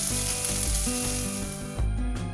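Red shallots and green chillies frying in a pan for a Kerala thal moru curry, giving a steady loud sizzle that runs throughout with a faint stir near the end, and no talking.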